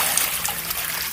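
Water rinsing out an old paint bucket, a short steady trickle and splash of liquid close by, alone without talk.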